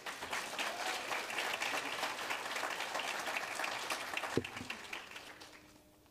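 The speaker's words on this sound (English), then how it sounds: "Give a round of applause." Audience applause at a senior awards night, steady dense clapping from a crowd heard at moderate distance, with a single sharp knock near the end as it fades out.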